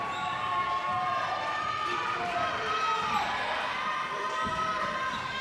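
Crowd cheering at a high school girls basketball game between St. Louis Park and Minnetonka, a steady roar of gym noise with squeaks and shouts under continuous announcer talk.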